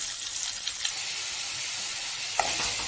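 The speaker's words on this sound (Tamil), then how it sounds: "வெங்காயம் பச்சை மிளகாய் மாங்காய் எல்லாம் சேர்த்து வதக்கிக்கலாம்" Onion, green chili and raw mango sautéing in a pan after mustard seeds splutter, an even close hiss of frying with a few light stirring taps and one brief louder scrape near the end.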